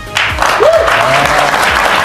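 Steady broadband applause from an audience fills the clip, with a faint tonal squeal briefly rising through the clapping.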